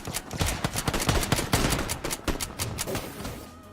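Rapid automatic gunfire from the video game PlayerUnknown's Battlegrounds, loud close bursts of sharp shots in quick succession lasting nearly four seconds with no talking.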